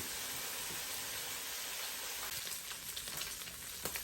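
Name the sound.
sausage and cabbage sizzling in a pan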